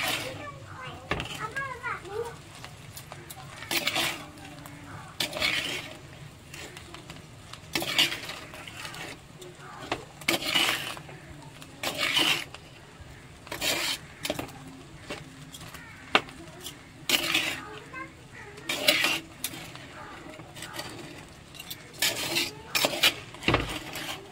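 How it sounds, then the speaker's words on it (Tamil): Prawn fried rice being stirred with fried prawns in a home kitchen pan, giving repeated scraping and rasping strokes in short bursts, close and moderately loud, with a few quiet voices in the background. "இந்த இறாலையும் சேர்த்து நல்லா மிக்ஸ் பண்ணுங்க"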